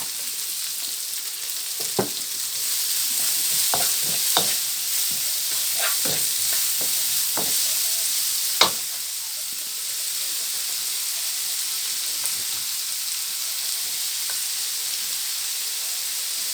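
Pork and hot dogs sizzle in a hot pan, stir-fried Thai style with oyster sauce and soy sauce, giving a loud steady hiss broken by sharp clinks and scrapes of a utensil stirring.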